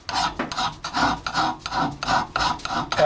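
A hand file rasping along an axe blade in repeated long push strokes, each stroke a harsh scraping burst with short pauses between, close and loud, with no talking.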